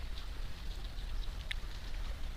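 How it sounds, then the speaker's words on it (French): Steady rain falls outdoors as a dense, even hiss with scattered drop patters and a low rumbling undertone, continuous and moderately close, with no talking. "il y a la pluie, comme vous êtes en train de voir"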